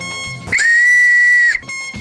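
A clay whistle sounds one clear, shrill, sustained note for about a second, loud and close, with quieter tones before and after.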